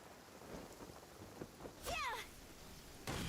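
Rain in the video game Genshin Impact: a faint, steady hiss of rainfall with a soft patter, joined midway by a brief, brighter chiming game effect.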